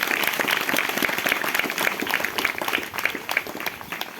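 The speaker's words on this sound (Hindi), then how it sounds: "जोर से तालियों को बजाएं और महिमा दें" A church congregation claps loudly in praise during a Hindi-language service, a continuous busy patter of many hands that stays fairly steady and slightly uneven in intensity.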